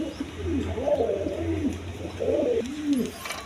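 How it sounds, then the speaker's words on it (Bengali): A pair of caged pigeons coo close by in soft, rolling bursts, two distinct cooing phrases separated by a brief lull over a low steady hum. "দর্শকবৃন্দ এখানে এক পেয়ার কবুতর আছে"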